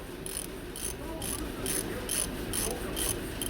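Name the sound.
ratchet with 32 mm socket loosening Skoda Superb oil filter cap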